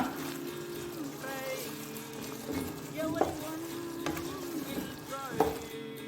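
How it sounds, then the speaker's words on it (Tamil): Pepper chicken frying in a pan and stirred now and then, a soft steady sizzle with occasional scraping clinks, partly under voices. "இது நல்லா அப்பப்போ கிண்டி விடுங்க."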